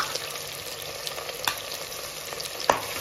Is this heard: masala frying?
yes